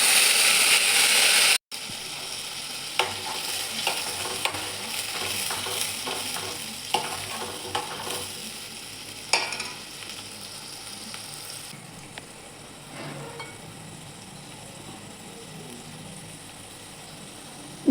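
Coconut-tomato masala paste with cumin hits hot oil in a kadhai and sizzles steadily, while a spoon scrapes and stirs it in irregular knocks over a continuous frying hiss.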